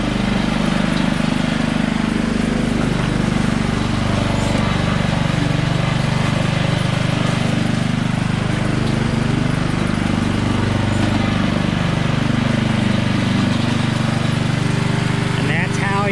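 A Honda lawn mower mows a yard at a mango orchard, its engine droning loud and close without a break, with people talking over it.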